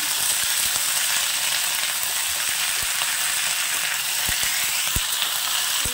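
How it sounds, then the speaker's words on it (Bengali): Cauliflower stems fry in oil, a loud continuous sizzle close by, broken by sharp spatula scrapes and taps as they are stirred in the pan. "একটু নাড়াচাড়া করে ভাজা ভাজা করে নেব।"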